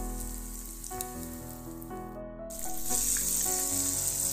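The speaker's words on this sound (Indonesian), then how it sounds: "Lanjut kita akan goreng pada minyak yang sudah panas yang kita siapkan tadi." Tofu pieces frying in already-hot oil give a continuous soft sizzle and crackle that grows brighter partway through, sitting beneath steady background music.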